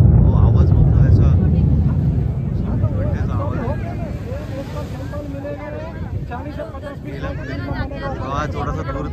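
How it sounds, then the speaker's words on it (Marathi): An air force jet flies over Girgaon Chowpatty beach during an air show, producing a loud, broad roaring rumble that slowly fades as it passes, with wind buffeting the microphone and spectators talking throughout. "अरे विमाना जवळून ये ना काका याला जवळून घ्या. हो आवाज बघ ना याचा"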